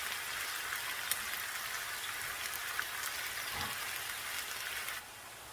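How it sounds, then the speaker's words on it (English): Chopped onions sauteing in a pan for Egyptian spinach make a steady, even sizzle that crackles lightly throughout, close and moderate, with no voices, then drops abruptly at the very end. "We're just going to saute the onions for a while"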